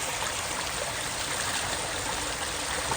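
Steady, full rush of water cascading through a large waterfall feature in a public park, heard up close as a continuous broadband roar with no voices.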